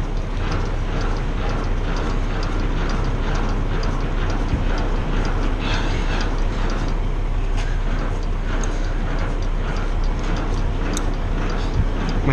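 Semi-truck trailer landing gear cranked by hand, a steady mechanical ratcheting and grinding that runs close and loud throughout, with no talk over it.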